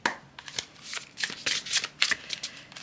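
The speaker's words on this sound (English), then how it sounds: "let's go ahead and keep shuffling here" Tarot cards shuffled in the hand, a steady run of quick papery riffles and soft slaps close up, with no talk over them.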